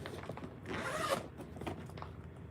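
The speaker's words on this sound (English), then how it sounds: "But it's a nice zippered bag." Zipper on a fabric project bag that once held a set of sheets, one quick close pull at moderate volume standing out from faint room noise, with no talk.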